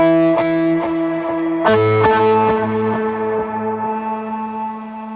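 Electric guitar played through a Meris Enzo X pedal on a double octave synth preset, with a few distorted, synth-like notes that sustain and ring on with echo. No voices.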